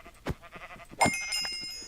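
Sheep in a video game give two short, close bleats about a second apart, the second louder and wavering, with faint game clicks between.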